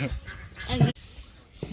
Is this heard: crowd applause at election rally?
no